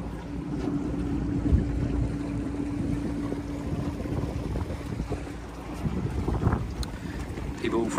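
A solar electric tri-hull boat under way on the water near Garden Island, Adelaide, with a low steady motor hum, wind buffeting the microphone and water washing past the hull; a voice speaks briefly.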